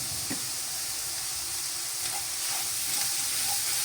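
Rice fries in ghee with salt and ground black pepper, a steady close sizzle and hiss with a few faint utensil taps and no talking.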